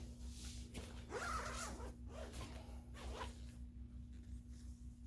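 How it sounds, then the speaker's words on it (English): Zipper on outdoor gear being zipped open in several short, rasping pulls with brief pauses, close and fairly quiet against a low steady hum. "So I'm gonna zip mine back open."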